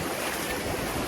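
Strong current of the Palakol River rushing past as a steady, loud broadband wash of flowing water, continuous and even with no voices.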